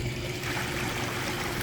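Constant, close rushing and gurgling of water draining from a swim spa, a dense, even wash of flow that holds steady for the whole short stretch.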